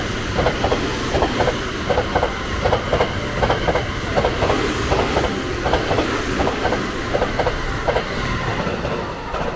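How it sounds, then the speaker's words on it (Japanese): The Sunrise Seto/Izumo sleeper express train rolls past close by on the JR Sanyo Line near Himeji, Japan, loud and steady, its wheels clacking over rail joints in a regular rhythm. "来ましたのは寝台特急サンライズ瀬戸出雲号です。"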